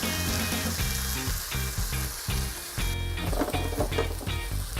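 Beef juice and slow-cooked beef go into a hot pan of kale, giving a continuous sizzle with a bright hiss, partly masked by rhythmic background music.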